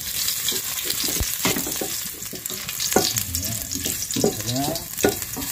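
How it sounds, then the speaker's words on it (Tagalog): Ginger sautéing in smoking-hot oil, sizzling loudly and steadily while a spatula stirs and scrapes the pan in several quick strokes. "gisa natin yung ating luya"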